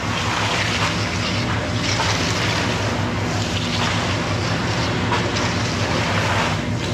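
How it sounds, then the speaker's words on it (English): A train passing near a work site, a loud sustained rumble and rushing clatter that holds steady for several seconds with no voices over it. "Train."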